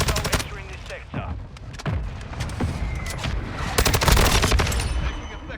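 Bursts of automatic and single gunfire from a Modern Warfare 2 multiplayer match, dense cracking shots with echoing booms, loud and close, with game voice callouts mixed in.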